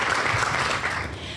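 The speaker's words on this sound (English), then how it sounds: "Please give everyone a round of applause." Dense, steady applause from a seated audience at a civic club luncheon, filling the whole moment with continuous clapping at an even level and no voices on top.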